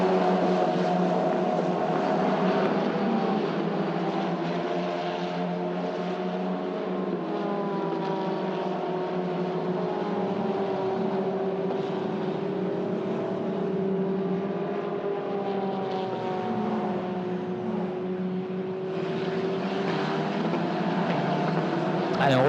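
Formula Renault 2.0 single-seater race cars at Magny-Cours, a steady sustained engine drone with shifting tonal pitch running throughout, loud and continuous under French race commentary.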